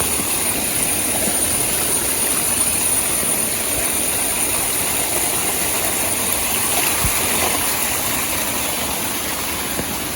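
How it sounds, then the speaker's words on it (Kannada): Rainwater from an areca garden rushes downhill in heavy rain in Udupi, a loud, constant roar like a small waterfall, steady throughout with no voices. "ನಮ್ಮ ತಾರ ತೋಟದ ನೀರು ಪೂರ ಇಂಚ ಹರಿದು ಬರ್ತಿದ್ದು"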